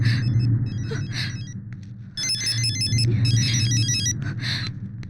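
A phone rings in repeated electronic bursts, muffled as if from another room, over a steady low rumble and background noise.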